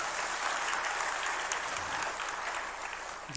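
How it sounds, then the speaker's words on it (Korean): A church congregation applauds during a Sunday worship service, dense steady clapping that holds throughout and fades slightly at the end. "잘했으면 박수 한번 해주세요."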